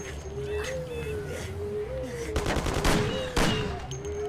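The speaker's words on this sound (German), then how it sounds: "Ah, zwei Schüsse, sehr toll." Gunfire in the video game Mafia crackles in a few quick bursts over a constant droning background hum, fairly loud and close.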